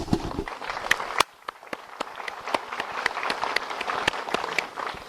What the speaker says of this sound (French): je pense que nous pouvons les applaudir pour cet après-midi